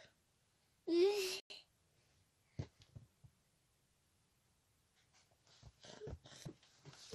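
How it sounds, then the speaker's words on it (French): A dog whimpers in a brief, loud high-pitched whine near the start, followed by scattered quieter sounds and some indoor movement. "C'est mon chien."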